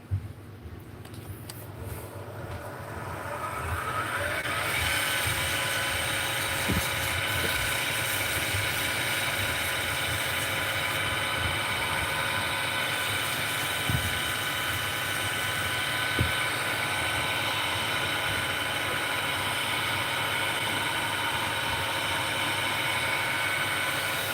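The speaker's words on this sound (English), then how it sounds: "We're going to start wet sanding." Wood lathe spinning a pen blank during wet sanding, a steady mechanical hum and whir that holds at an even level for over twenty seconds, with a few faint knocks and no talking.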